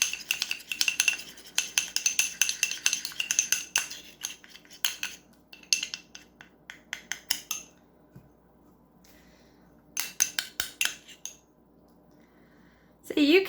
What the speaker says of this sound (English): so let's give it a stir